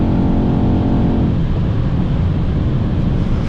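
A 2017 Mercedes-AMG E63s with 612 hp accelerating at high speed: a loud engine drone with rising harmonic tones briefly, then steady heavy road and wind roar, with no talking.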